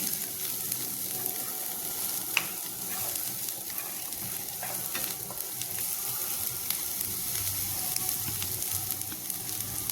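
Soya meat fries in hot oil with ginger, garlic and spices in a pan, giving a steady, dense sizzle and crackle with occasional small pops and stirring scrapes, close and unbroken.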